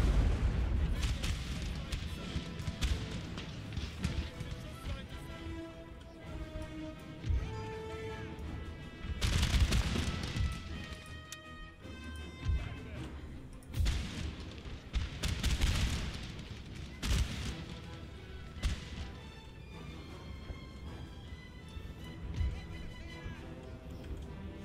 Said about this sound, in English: All of these guys getting wrecked by canister.